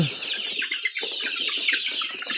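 Young chickens of breeds such as Australorp and Rhode Island, about two and a half months old, cluck and cheep together in a close, continuous chorus of overlapping high calls.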